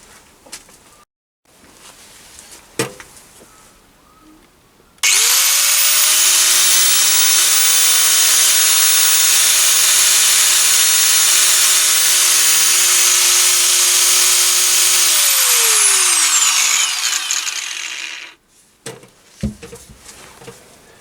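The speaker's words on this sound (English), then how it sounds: "this angle grinder has a really powerful fan cooling system" DeWALT DWE8100T small angle grinder switched on for about ten seconds, a loud steady high whine that begins abruptly and then winds down as the motor coasts to a stop.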